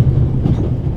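Continuous low rumble of a train rolling along rails, heard from inside a freight car in The Raven: Legacy of a Master Thief, steady and close with faint rhythmic clatter.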